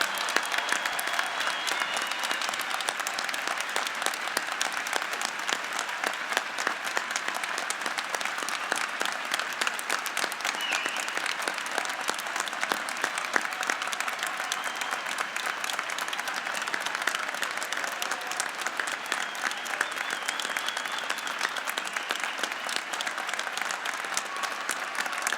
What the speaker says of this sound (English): a round of applause and a great deal of appreciation for their service to our great country